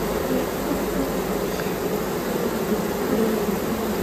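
Honey bees in a hive fan their wings during the introduction of a new queen to a queenless colony, producing a dense, steady, loud buzz that holds without a break.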